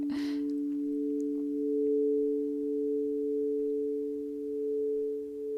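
A singing bowl used in a guided meditation rings with a sustained, pure, slowly pulsing tone after a brief struck attack, fairly loud and close, with no speech.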